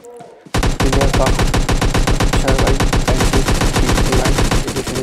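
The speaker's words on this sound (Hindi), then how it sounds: "वैसे शॉर्ट गन से मारूँगा" Rapid gunfire in the PUBG Lite video game, a dense run of loud, sharp shots repeating at a fast, even rhythm after a brief quiet start, with no talk.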